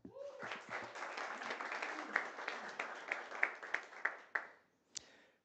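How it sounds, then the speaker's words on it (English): Applause from a modest audience at a competition final in Cannes, France, with quick scattered claps building into a brisk patter, a few sharp louder claps standing out before it trails off to silence and one last clap. "Let's give everybody a round of applause."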